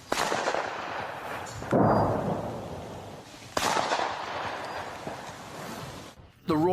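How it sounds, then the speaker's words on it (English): Rifle shots fired at a fallen Russian FPV drone in Pokrovsk: two sharp, loud cracks several seconds apart, each followed by a rough rumbling decay and outdoor background noise. "After several shots from a rifle, the drone no longer poses a threat."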